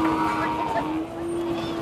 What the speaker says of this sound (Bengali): এই যে আরেকটা গাড়ি ঢুকতেছে,